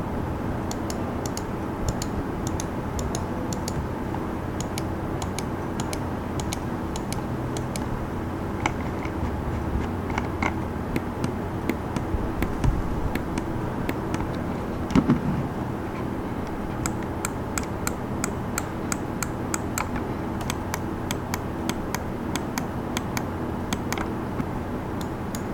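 Razer DeathAdder Essential gaming mouse with Omron D2FC-F-7N main switches, its buttons clicked in a steady run of light, sharp taps over a quiet room background, grouped more densely toward the end.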